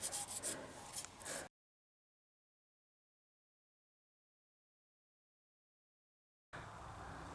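Carbon is scrubbed off the valves of a Farmall Cub engine with a rough, rasping rub heard close up in two short bursts, separated by a long stretch of silence.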